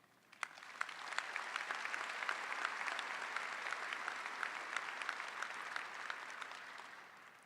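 A commencement crowd at the LSU Law Center applauds its law school faculty, heard as a fairly distant, even wash of clapping that starts abruptly, holds steady for several seconds and fades out.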